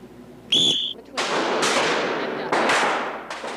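A sharp whistle blast, then a rapid series of loud handgun shots fired double action at a weapons training range, four or five reports with ringing decay between them.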